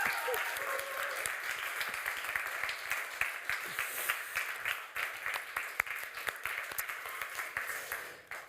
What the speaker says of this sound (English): one last applause for new Div.